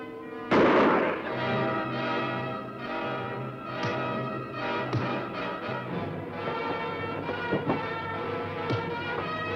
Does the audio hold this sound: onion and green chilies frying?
no